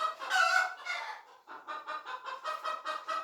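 Egg-laying hens clucking and squawking close by in a busy run, a steady run of rhythmic cackles with no human voice.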